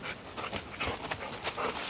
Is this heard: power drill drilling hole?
no